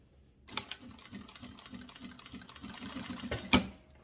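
A sewing machine stitches a fabric cable organizer in a fast, even mechanical rattle, with sharper clicks at the start and near the end, fairly close and quiet.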